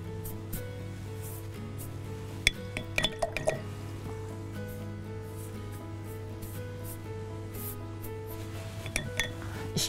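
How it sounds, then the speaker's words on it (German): Water drips and splashes lightly in a few small bursts over a steady low hum, quiet and close, as water is added to liquid acrylic paint with structure paste. "Ich gebe jetzt erstmal ein bisschen Wasser."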